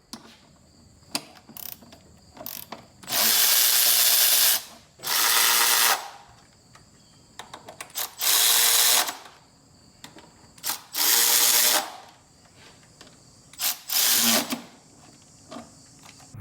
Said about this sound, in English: Here's a quick demonstration of the electric ratchet removing and installing the manifold cover.